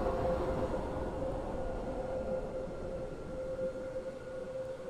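A non-stopping train running through a station platform, a steady rumbling roar with a sustained whine over it, loud and constant throughout with no break.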